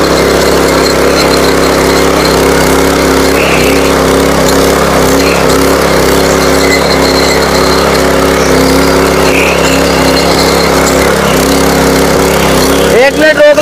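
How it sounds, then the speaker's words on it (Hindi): A Kisan Power mini power tiller engine runs with no load, giving a loud, steady, close drone that holds for the whole stretch with no voices, then ends in a brief burst. "और इंजन बिल्कुल लोड फ्री चल रहा है, कोई लोड नहीं आ रहा"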